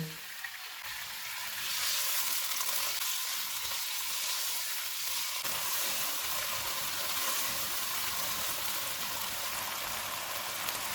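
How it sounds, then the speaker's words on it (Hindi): Beef sizzles and crackles steadily in a hot pan over medium heat, the frying growing louder after a couple of seconds and continuing without any talk. "400 ग्राम बीफ डालेंगे। चूल्हे को मीडियम रखेंगे। इसको 4 से 5 मिनट तक भूनेंगे।"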